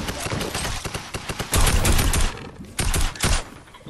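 Gunfire in Fortnite, dense rapid shots and bursts rattling close and loud, with louder volleys in the middle and near the end, and no voices.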